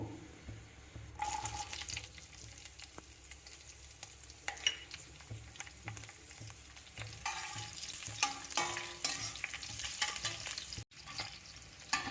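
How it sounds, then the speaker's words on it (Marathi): Cumin seeds and green chilies fry in a pan for spinach pulao, giving a steady close sizzle with bursts of crackle, clinks and stirring scrapes, and a brief tap-water rush partway through. "जिरं तळलं गेलं की त्याच्यामध्ये आपण हिरवी मिरची टाकू"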